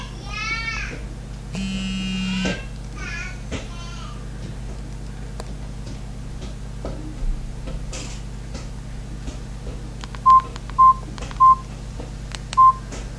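A Samsung E1200 basic mobile phone is switched on, giving four short, evenly spaced electronic beeps near the end after a stretch of faint handling and quiet room hum.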